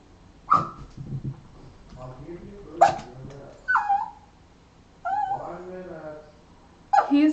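A dog named Thunder gives several sharp, close barks and whimpering yelps, spaced irregularly with quiet gaps between, while a voice talks nearby.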